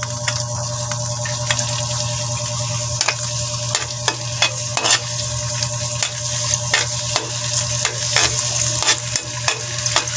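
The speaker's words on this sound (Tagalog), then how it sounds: "Lagyan natin ang bawang." Garlic sautés in a pan on a gas stove, the first step of ginisang sayote with sardines: a steady, close sizzle runs throughout, broken by sharp clicks and scrapes of stirring, with no talk.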